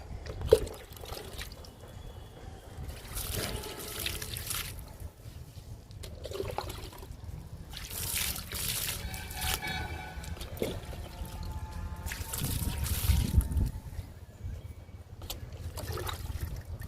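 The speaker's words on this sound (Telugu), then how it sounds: "ఇంకా లిల్లీస్కి వాటర్ ఇస్తే సరిపోతుంది" Water pours and trickles in uneven bursts onto potted lily plants, splashing softly onto soil and leaves, close by, with intermittent steady flow and no talking.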